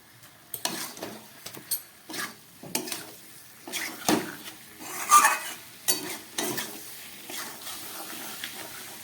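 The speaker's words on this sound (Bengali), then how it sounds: "আলু আর মশলা খুব ভালো করে কষিয়ে নিলাম।" Potatoes and spices stirred and sautéed in a pan for a prawn curry, a spoon scraping and tapping in repeated strokes with a light sizzle underneath, close and moderately quiet.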